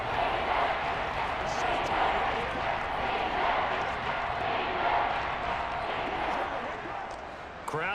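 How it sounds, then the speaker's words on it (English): Stadium crowd noise in a Madden 23 simulation of an Eagles vs Buccaneers Monday Night Football game, a steady dense roar throughout, moderately loud and unbroken. "Crowd getting in it a bit already."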